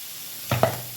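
Garlic and cumin roasting in oil for a green tomato chutney, giving a steady, close sizzling hiss for about a second, with a brief clatter in the middle.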